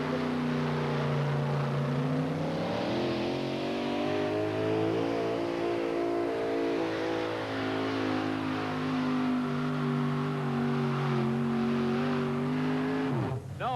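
Miller High Life monster truck at a 1991 USHRA event in Bowling Green, its big engine revving loud and close, rising and falling in pitch over a steady roar with no talk.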